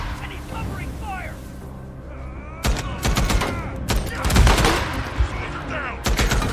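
Gunfire bursts in the Days Gone video game: rapid fusillades of shots starting midway and continuing in loud, close volleys, with shouting game voices underneath.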